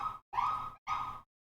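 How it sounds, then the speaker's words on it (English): Emergency siren wailing in the background outdoors, three loud rising-and-falling bursts separated by short silences, with no talk over it. "I apologize for the siren songs sounds behind me."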